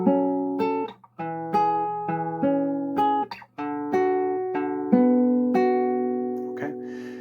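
Acoustic guitar picking three chords, ringing arpeggiated notes played alone and close, each chord sustaining before the next with a brief pause between phrases.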